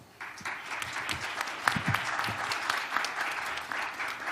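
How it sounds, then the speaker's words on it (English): A conference audience applauds as the keynote speaker, Nobel Peace Prize laureate Maria Ressa, is welcomed: moderately distant, dense clapping that swells after a brief start and holds steady throughout. "please welcome our keynote speaker, the Honorable Nobel Peace Prize laureate, Ms. Maria Ressa, with warm applause"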